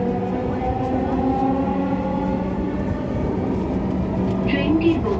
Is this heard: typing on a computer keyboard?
no